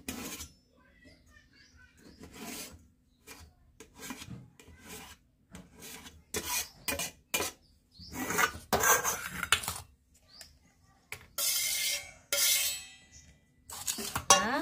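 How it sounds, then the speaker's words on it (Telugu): A knife slices finely through two tomatoes on a cutting board, giving a run of short rasping cuts in uneven bursts, close and fairly quiet, with brief pauses between strokes. "టమాటాలు అయితే తీసుకొని సన్న ముక్కలుగా తరుక్కోవాలి"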